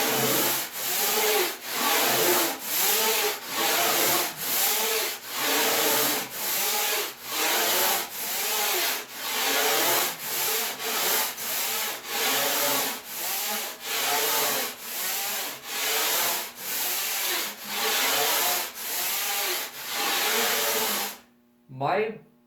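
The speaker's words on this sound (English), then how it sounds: "My Fred tool cuts both directions, so it's really nice." Hand rasp shaping the rail of a surfboard, worked with a tool that cuts in both directions. About twenty close, rhythmic rasping strokes follow one another evenly, then stop abruptly into near silence at the very end.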